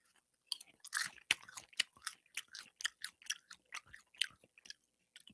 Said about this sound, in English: it's bad enough I'm chewing while I'm on the microphone